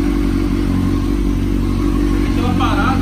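Motorcycle nicknamed Pantera Negra, a Honda Hornet or Kawasaki with an Akrapovic exhaust, running loud and close with a deep rumbling idle and continuous engine roar throughout.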